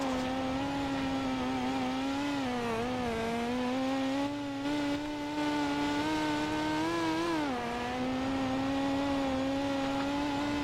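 Dirt midget race cars in a sim racing game on the dirt track at Charlotte roar continuously, with steady high engine whine and a brief dip in pitch as one car passes on the front straightaway.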